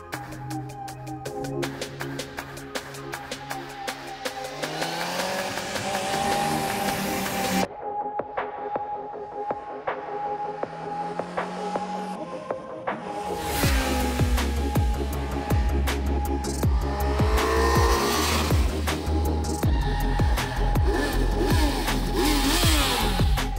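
A 2025 Kawasaki Z900 motorcycle out on a road test, its engine revving and pulling hard through the gears with rising and falling pitch, a brief lull midway, then loud sustained acceleration with wind noise.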